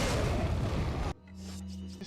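Frag grenade explodes in Resident Evil 4: a loud, close, broadband blast roars for about a second, then cuts off sharply into a quieter ambient hum with a low steady tone.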